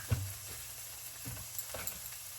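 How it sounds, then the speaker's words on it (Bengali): Vegetables frying in a pan give a soft, steady sizzle with a few faint stir clatters, quiet and continuous with no voices. "দেখুন আমার সবজিটা কিন্তু একদম মানে ভাজা ভাজা হয়ে গেছে"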